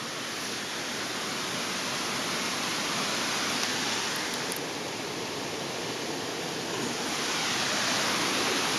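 Waterfall on a river in Aveyron during a trout fishing outing: a loud, unbroken roar of falling water filling the whole scene, close and constant, with no voices.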